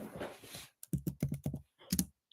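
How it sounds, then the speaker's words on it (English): Typing on a computer keyboard: a run of close, irregular key clicks in quick bursts with short pauses, after a stretch of soft noise. "Now I'll just type in"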